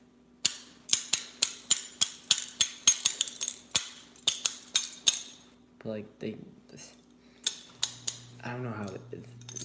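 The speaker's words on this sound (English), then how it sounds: "How do people play the spoons?" Rapid, rhythmic clacking of spoons played as percussion, sharp bright clicks in quick bursts with pauses, and a voice speaking briefly between the runs.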